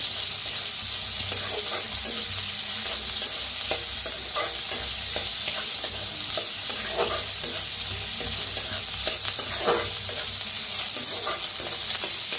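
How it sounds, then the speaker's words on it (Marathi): Chopped onion sizzles and fries in a hot pan while cooking safflower greens, a steady close hiss with occasional scraping stirs, heard alone. "कांदा मी भाजून घेऊया"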